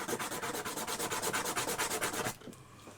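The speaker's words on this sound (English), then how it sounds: "Use you could use, what do they call it? Your Dremel." Rotary tool such as a Dremel sanding the cut edges of a hollow egg shell, a steady close whirring rasp with rhythmic pulses for over two seconds before stopping abruptly, leaving a faint hiss.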